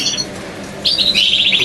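A red intensive frost canary gives a short chirp, pauses, then lets out a brighter run of quick, high tweets close up in a quiet room.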